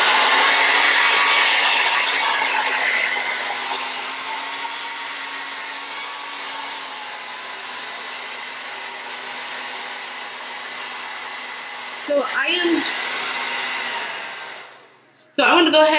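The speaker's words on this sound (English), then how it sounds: "And now I'm going to go ahead and do some blow drying." A handheld hair dryer blows a steady, close whooshing roar while drying hair, holding for about twelve seconds before a brief rustle, then cutting off and starting again at the end.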